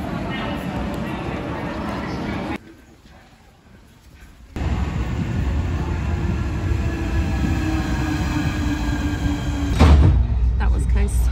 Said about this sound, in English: Need to make this train.